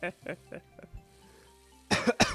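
A person coughs several times in a row while milking cows, then coughs out harder and louder at the end, with no words spoken.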